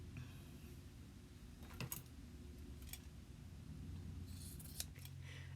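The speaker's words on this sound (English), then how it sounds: "Leave about 5/8 inch and cut off the excess of the contrast." Scissors trim the excess contrast fabric binding from a sewn fingerless glove, giving a few brief, faint snips over a steady low background hum.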